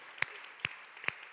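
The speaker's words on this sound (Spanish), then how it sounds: "Dale un aplauso" Hand claps at a church service: three sharp, evenly spaced claps, fairly close, with no voices.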